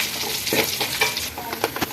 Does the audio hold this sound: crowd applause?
no